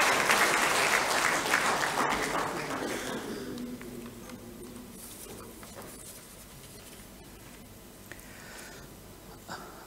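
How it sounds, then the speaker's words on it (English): Audience applause welcoming a speaker to a book session on the Tata Group, a loud burst of clapping in the opening seconds that fades over the remaining time into quiet room noise with scattered claps. "A round of applause for Shashank."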